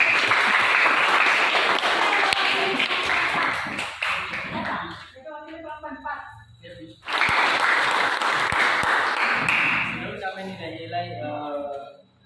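A class applauds group 4 in a school setting, with two bursts of dense clapping separated by a brief lull where faint voices and scattered claps are heard.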